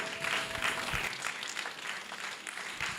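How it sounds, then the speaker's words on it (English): Audience applause for an ambassador at an edtech summit, a full hall of steady clapping sustained for several seconds, with a faint voice near the start. "let's have a round of applause for the ambassador"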